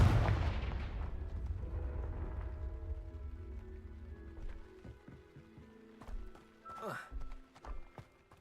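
Confringo fire spell in the Hogwarts Legacy video game bursts with a loud, booming blast, then rumbles and fades into quieter game sounds and scattered clanks.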